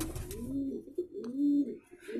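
A pigeon coos nearby in soft, rolling phrases, two drawn-out calls with a brief pause between them.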